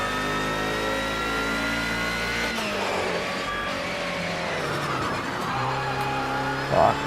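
Car engine in a PS4 racing sim revving loud and steady, with a gear change midway as the pitch drops and climbs again, continuous and close with no talking.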